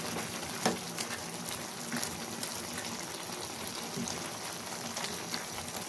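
A pan of ginisang upo (bottle gourd) with chicken and shrimp sizzles steadily at low volume while being stirred, with occasional light clinks and scrapes from the mixing.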